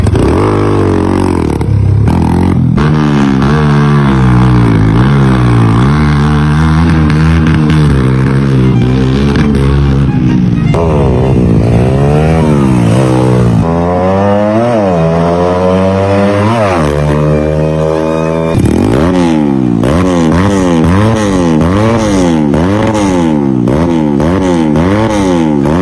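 A trail motorcycle with stock exhaust revs hard and close, the engine repeatedly climbing and dropping in sharp swoops with brief idling pauses between bursts, loud and raw throughout.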